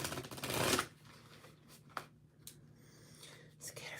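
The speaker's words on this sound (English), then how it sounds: "get a few more shuffles here on this deck" A deck of tarot cards riffled in a loud burst, followed by quieter scattered card flicks and soft handling noises.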